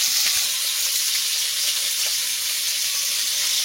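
Curry with spice paste frying in a pan, a steady loud hiss and sizzle running unbroken throughout, close by with no voices.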